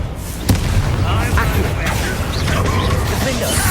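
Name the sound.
Confringo blast spell explosion in the video game Hogwarts Legacy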